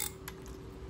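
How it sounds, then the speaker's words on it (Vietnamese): Faint, rapid ticking from the anti-reverse clicker of a Japanese Daiwa spinning fishing reel, a few light clicks over a quiet background. "Đây là tiếng lưỡi gà của máy nha."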